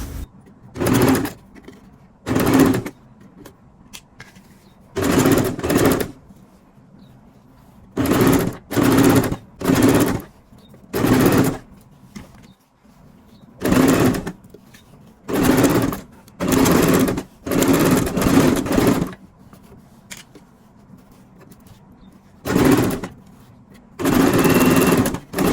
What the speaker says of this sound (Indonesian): Lalu kita jahit di sini.